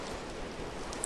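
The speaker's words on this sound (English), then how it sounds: "Did it stop raining?" Steady soft hiss of rain falling in the video game Minecraft, a constant even wash of noise with no talking.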